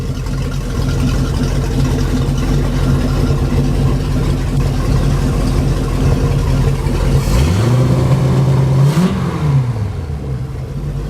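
A Mercruiser 5.0 marine engine runs on a pallet out of the boat, idling with a loud, steady rumble. Near the end it is revved up and the pitch climbs, then settles back to idle, with no one speaking.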